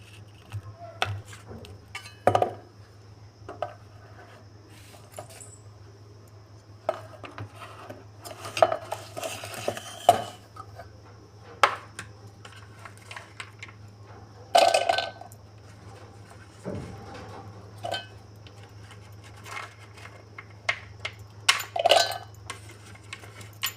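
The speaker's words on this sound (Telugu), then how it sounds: "ఇప్పుడు ఇవన్నీ మిక్సీ జార్లో వేసుకుందాం" Dry fruits, dates, thick buffalo milk and sugar go into a mixer jar for homemade mango ice cream, with sparse clinks, taps and rattles against a quiet kitchen background and no talking.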